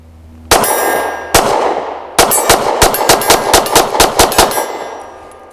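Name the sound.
S&W M&P Shield Plus pistol shots ringing steel targets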